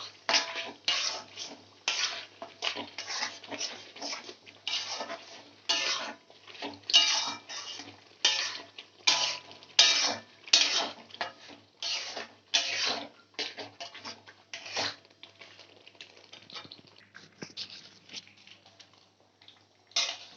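Beaten yogurt is mixed into chicken rezala in a pot, with a long run of rhythmic scraping and clinking spoon strokes against the metal, close and steady, easing off toward the end, with no talking.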